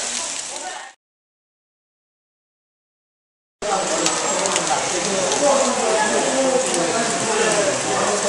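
Heavy rain pours steadily outside a small train station in Gangchon, a dense, loud wash of water that continues without a break after a brief silent gap.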